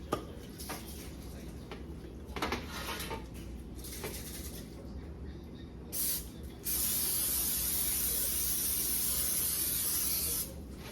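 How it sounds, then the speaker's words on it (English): Two short hissing bursts of cooking spray onto a pan, the second long and steady for several seconds, with faint clinks and background noise around them. "we're gonna spray the pan"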